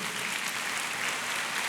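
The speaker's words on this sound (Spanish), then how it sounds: "Dale un fuerte aplauso a nuestro Dios." A church congregation applauding loudly during a sermon, a thick, even roar of many hands clapping throughout with no speech over it.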